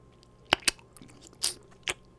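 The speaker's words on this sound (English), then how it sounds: "I hear chewing" Someone chewing vegan pizza close to the microphone, with a few sharp, separate crunchy bites and chewing sounds spaced across a quiet background.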